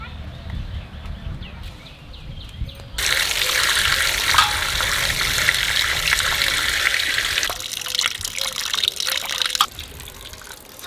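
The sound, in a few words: washing fish by rubbing under running water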